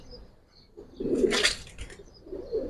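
Pet giribaj pigeons of Bagha and Silver varieties coo nearby, one soft throaty burst in the middle and a fainter coo at the end, over quiet background.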